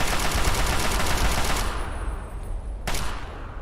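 Rapid sniper and automatic gunfire in Fallout 3, a dense run of loud cracks filling the first half and then thinning out, with one more sharp shot near the end and no voices.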